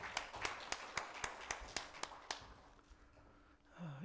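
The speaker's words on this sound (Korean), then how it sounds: "우리 박수로 맞이하시겠습니다." A congregation at a church symposium worship service in Gangwon, Korea gives slow, rhythmic clapping to welcome the pastor, about nine distinct claps at a steady pace that then stop, leaving a quiet room.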